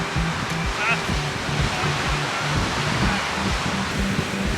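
Strong wind of about 45 mph roars steadily across the whole clip at the seaside in Great Yarmouth, with a broad rushing texture and low buffeting thumps, like gusts hitting a microphone.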